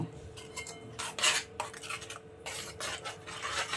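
A spoon scrapes and stirs a thick mango barfi mixture in a pan over the stove. Repeated rough scraping strokes come in uneven bursts, close and fairly quiet, with no talking.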